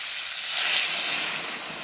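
Water poured into cooking mixed vegetables with cauliflower in a pan, a loud steady hiss and sizzle of steam rising close by for under two seconds, with no talk.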